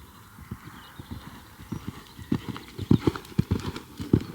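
A horse cantering inside the boards of a riding arena, its hoofbeats a close, rhythmic three-beat clip-clop that grows louder and more distinct, with no talk over it.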